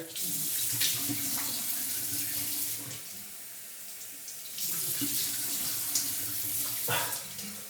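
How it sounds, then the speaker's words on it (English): Hot water runs from a bathroom tap into a sink, splashing loudly and close, briefly quieting around the middle before gushing again. "We're gonna start with the hot water."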